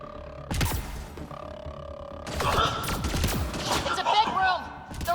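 Gunfire bursts in a Mass Effect Andromeda firefight, sharp shots and rapid volleys crackling close and loud, mixed with game effects and shouted voices over the clash.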